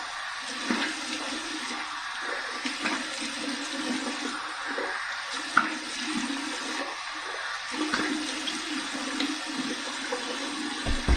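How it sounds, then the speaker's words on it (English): Cold tap water running and splashing at a bathroom sink for a rinse after a shave with a sharp blade, a steady close rush with small splashes throughout. "Here's the cold water rinse."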